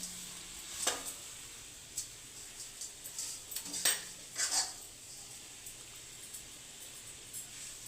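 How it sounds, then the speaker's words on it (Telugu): Spices with turmeric and coriander being stirred in a pan for a bean curry: faint scattered clinks and scrapes of a spatula on the pan, with a soft sizzle underneath, in a quiet kitchen. "ఇవన్నీ బాగా వేయించుకోవాలి, పచ్చివాసన పోయేంత వరకు వేయించుకోవాలి."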